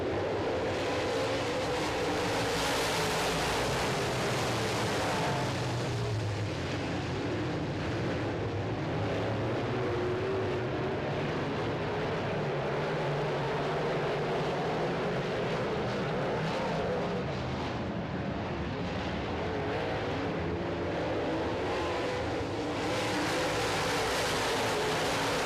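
Modified race cars roaring off at the start of a 15-lap feature, a loud, continuous wall of engine noise swelling and surging from the pack with crowd and track ambience.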